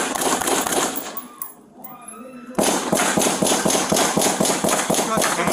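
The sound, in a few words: gunshots during a police shootout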